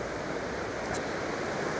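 High, rain-swollen Afon Glaslyn rushes through the Aberglaslyn Pass after days of heavy rain, a loud, steady, close roar of churning water with no breaks.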